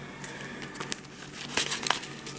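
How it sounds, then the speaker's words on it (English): A deck of Magic cards is shuffled by hand nearby, a soft crinkly riffling with a few brisk bursts near the end, quiet and without talk. "shuffle like that. I don't do pile shuffle."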